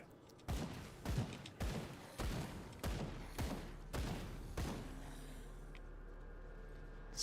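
Semi-automatic gunfire from the Grim Dawn video game: seven evenly spaced sharp shots, close and punchy, followed by a fading tail with a low hum.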